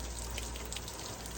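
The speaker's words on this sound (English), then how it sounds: "you see your water coming out right here?" Water runs steadily from a fish washing bucket used for scaling bream, a faint continuous splashing and trickling flow with no talk.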